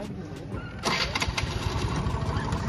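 A TVS Ntorq scooter engine cranks briefly and then catches, settling into a close, pulsing idle putter that keeps running afterward.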